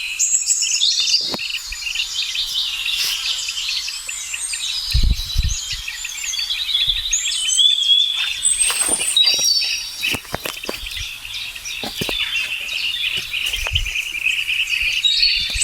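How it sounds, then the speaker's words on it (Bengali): A bee-eater colony nesting in sandy burrows keeps up dense, continuous high chirping and twittering, with insect-like trills and scattered low thumps beneath. "এগুলো হাজার হাজার পাখি একসঙ্গে বাস করে"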